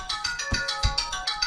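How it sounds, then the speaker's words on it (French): A phone ringtone plays as a quick series of bright electronic pulses in steady rhythm, fairly loud and close, with no talking. "le téléphone qui sonne"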